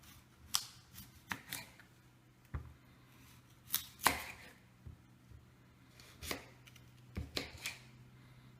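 Knife chopping through beet and beet leaves on a board for an organic vegetable juice, a run of sharp, close, irregular cuts with short pauses between them, no talking.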